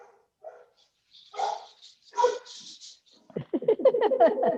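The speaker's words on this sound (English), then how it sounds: "I got dogs going crazy here." Several dogs bark and yip in uneven bursts, close by, with excited barking rising toward the end and no talking over it.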